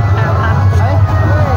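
Crowd hubbub at a village drama show (natak): steady babble of many voices and traffic-like rumble, close and fairly loud, with no single voice standing out.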